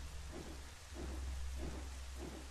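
Steady rain in the video game Twilight Princess HD, a constant hiss of rainfall with low rumbling pulses beneath, fairly quiet and with no voices or music.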